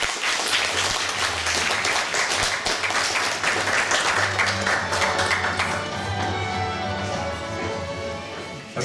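A concert-hall audience at a jubilee evening applauds warmly in a dense, steady wave of clapping as a guest artist is welcomed, with an orchestra and a vocal ensemble on stage, tapering slightly toward the end.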